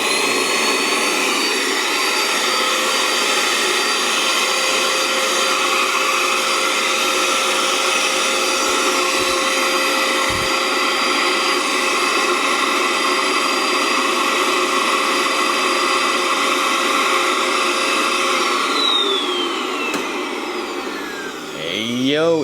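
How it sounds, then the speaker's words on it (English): A vacuum pump runs steadily and loudly to pull a heated plastic sheet over a dental mold for a homemade retainer, a continuous whining roar with no letup that tails off slightly near the end. "turn the vacuum on."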